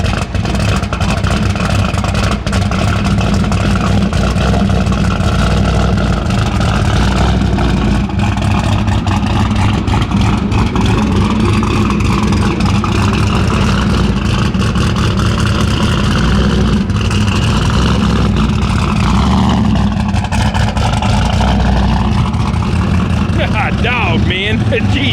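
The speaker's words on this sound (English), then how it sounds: "All right, turbo Camaro. Seemed like about to start up." A big turbocharged Camaro at a car meet runs loud and steady throughout, its rumbling engine layered with crowd noise and people talking nearby.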